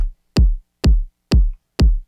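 Electronic kick drum sample struck four times in an even, steady rhythm, each hit a punchy click with a booming low tail that decays quickly; loud, close and isolated.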